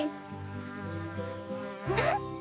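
A close, steady whining buzz like a mosquito that swells and rises in pitch near the end.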